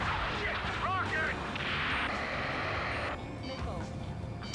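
Rocket and missile fire in the video game Ace Combat 7: a dense barrage of booming blasts and rushing launches runs throughout, loud and steady, with radio chatter talking over the combat.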